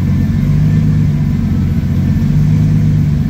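A turbocharged drift car engine with anti-lag held at a steady high rev, a loud constant rumble with a droning tone that runs without a break.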